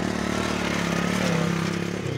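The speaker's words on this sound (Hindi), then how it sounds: "बाइक गुजर है" A motorcycle passes by, its steady droning engine hum rising slightly and then fading at moderate distance.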